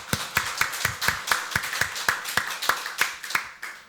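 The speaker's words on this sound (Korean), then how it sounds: "박수로 하나님께 영광 돌리겠습니다." Hands clap in a steady, even beat of sharp, close strikes, roughly four per second, during a Korean church's Sunday worship service, with no talking over them.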